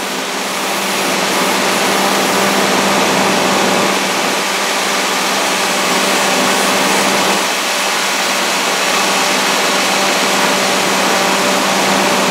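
An old Nissan pickup engine running with a busted vacuum line, a loud, steady broadband roar with a low hum that holds nearly unchanged for about twelve seconds, with no talking.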